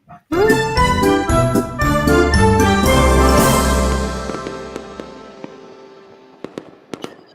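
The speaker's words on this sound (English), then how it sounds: "Always start things off in the studio with the theme song and the fireworks." Studio fireworks sound effect over a theme song opens a live Central Florida real estate stream, loud and continuous: crackling bursts and glittering tinkles layered on music, fading out with a few scattered pops at the end.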